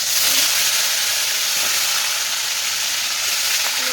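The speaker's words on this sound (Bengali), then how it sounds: "তো দেখো তেল কিন্তু প্রচণ্ড গরম, আস্তে আস্তে আমি লেগ পিসগুলোকে দিয়ে দেবো" Very hot oil hisses loudly and continuously as chicken leg pieces go in to fry, a dense, even sizzle close by with no talking.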